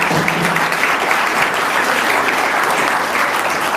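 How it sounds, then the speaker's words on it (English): An audience gives a speaker a round of applause at a business software forum, steady dense clapping filling the room from start to finish with no voices over it. "Let's give Pete a round of applause"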